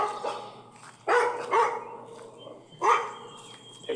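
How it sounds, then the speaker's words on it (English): Neighbors' dogs barking ferociously in a residential yard, a few loud separate barks and yips at irregular intervals, heard alone against quiet background. "two ferociously and incessantly barking and growling dogs"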